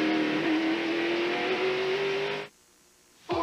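Stock cars racing early in the 1992 Hanes 500 NASCAR race at Martinsville, a loud steady engine drone with a sustained rising tone for about two and a half seconds, then a sudden cut to near silence before the sound returns.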